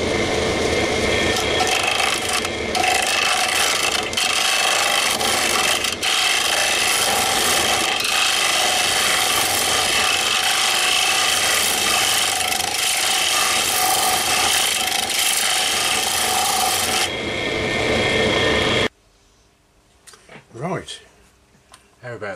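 A walnut bowl turns on a lathe while Yorkshire Grit abrasive polishes it, a loud, continuous rubbing whir that stops abruptly near the end, followed by quieter handling sounds and a voice.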